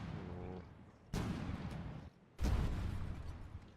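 Cannons fire in the From The Depths naval combat game: two heavy booming blasts about a second apart, each with a sharp onset and rumbling tail, following a brief engine-like hum.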